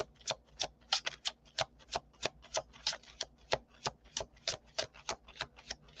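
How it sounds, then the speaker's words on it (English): Tarot cards are shuffled in a steady rhythm of crisp, papery riffles and taps, about three per second for six seconds, close but quiet, with no voice. "that was a very, very, very good shuffle"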